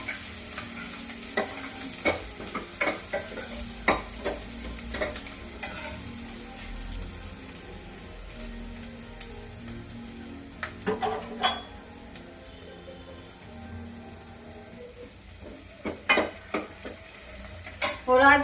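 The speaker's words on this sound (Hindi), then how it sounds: "बस लहसुन प्याज डाल दिया। अब छौंक हो जाएगा" Garlic and onion sizzle in hot oil as a tempering for pakora kadhi, with steady frying hiss and repeated clinks of a spoon stirring against the pan, close and continuous for the whole stretch.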